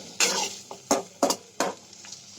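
Potato and pointed gourd are stirred through spice paste in a pan, making four or five quick, crisp scraping strokes of a spoon against the metal in an uneven rhythm, close and clear with no talking.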